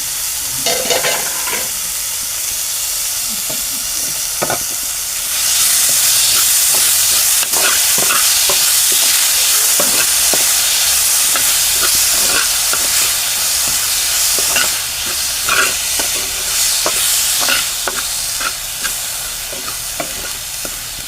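A ground spice paste for ripe tomato chutney is sautéed in a pan, giving a loud, steady sizzle with repeated scraping and stirring strokes throughout.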